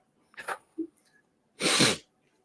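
A single loud sneeze close to the microphone, preceded by a sharp intake of breath and a short sniff.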